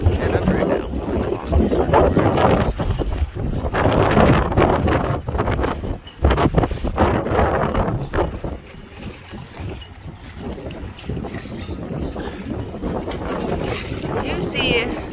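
Strong wind gusts buffet a docked sailboat on a warm, stormy day, with steady broadband roar and flapping rushes at the microphone; a voice talks over much of it.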